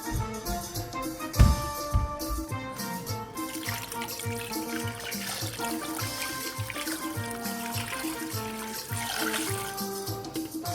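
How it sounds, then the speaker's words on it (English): Water pours steadily into a pot of beef rib light soup, a continuous trickling splash at moderate volume with a sharp clatter near the start and no one talking. "I just added a little bit more water because this is light soup"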